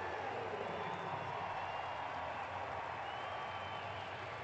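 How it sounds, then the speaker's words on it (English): Philadelphia baseball stadium crowd welcoming a player with steady, broad applause and cheering that holds at an even level throughout, distant and diffuse, with no talk. "the Philly crowd welcomed him with open arms in this one"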